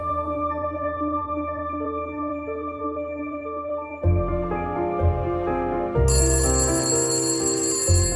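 A telephone rings with a bell-like repeating tone over a sustained musical bed that grows louder and brighter in stages, with no voices present.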